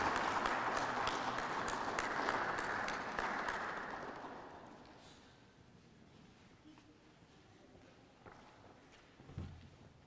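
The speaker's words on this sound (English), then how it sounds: "let's welcome Dare with a round of applause" An audience at a presentation session claps, a dense round of applause that fades out after about four seconds, leaving a quiet room with scattered footsteps and small knocks.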